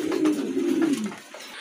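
Pigeons in a loft coo loudly and close, one sustained throaty rolling call lasting about a second, then quieter room tone with no voices.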